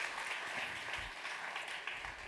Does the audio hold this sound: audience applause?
yes